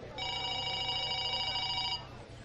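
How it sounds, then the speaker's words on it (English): A telephone bell rings in an office, one steady electronic trill lasting nearly two seconds, clear and fairly close, then fades. "he heard the phone ringing"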